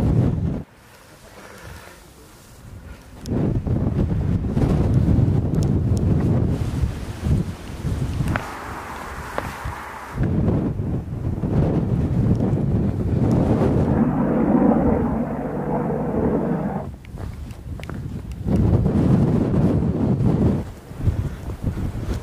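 Heavy wind on Round Hill, the highest point of the North York Moors, buffets and roars across the microphone in loud, gusty bursts, dropping away briefly between strong gusts.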